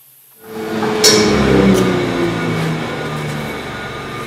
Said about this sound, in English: we're going to go ahead and cut all those slots